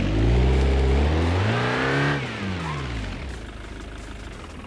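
A car engine in the BeamNG racing game revs hard and loud, its pitch climbing for about two seconds before dropping back to a steady lower drone, with no voices over it.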